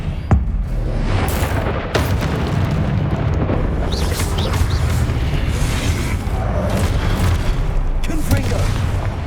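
Expelliarmus spell casts in a Hogwarts Legacy fight, sharp booming bursts amid continuous combat rumble and crackle, with a voice speaking over the action.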